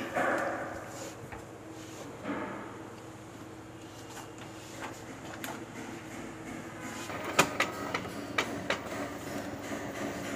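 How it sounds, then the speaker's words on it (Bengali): A DTF printer prints a design onto film, its mechanism humming steadily with soft whirs, sliding carriage movements and a run of sharper clicks and knocks toward the end, heard at close range in a workshop. "জি, প্রিন্ট শুরু হয়েছে।"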